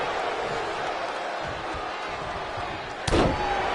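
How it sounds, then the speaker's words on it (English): A jumping face buster lands in a WWE wrestling video game, a single sharp slam impact near the end over a steady crowd roar. "Jumping face buster."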